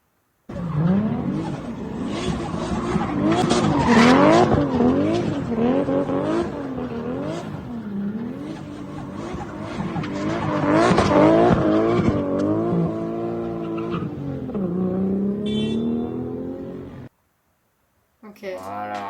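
Cars drifting on a road in Japan, engines revving and tires squealing in long rising and falling sweeps, loud and continuous for most of the stretch before cutting off.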